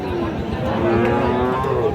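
At a busy cattle market, a Friesian or crossbred bull gives a long, drawn-out moo over the hubbub of a crowd.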